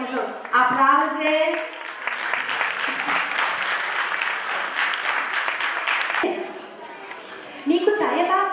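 An audience applauds at a children's music school show, steady clapping filling the middle of the clip, with a presenter's voice over it at the start and end.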